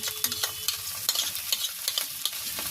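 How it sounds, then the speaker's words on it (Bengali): Garlic and ginger paste sautéing in a pan in a village kitchen while vegetable momos are made, a soft hiss of frying broken by quick scraping taps of a spoon stirring. "তো আমি এটা দিয়েও সুন্দর করে কষিয়ে নেব"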